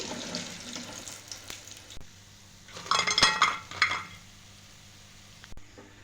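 Fried rice-flour pitha lifted out of a pan of hot oil: a low background sizzle, then a short burst of clinking utensil and spluttering oil in the middle before it settles again.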